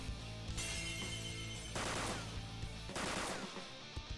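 Gunfire in Persona 5 Royal, a rapid burst of game gunshots followed by heavier blasts, loud and layered over a background music bed.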